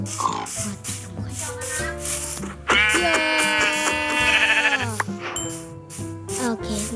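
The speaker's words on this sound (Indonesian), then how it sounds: "Ada domba." Sheep bleat repeatedly in the video game Minecraft, a loud, close, wavering bleat that rises and holds in the middle, mixed with game music and other short in-game sounds.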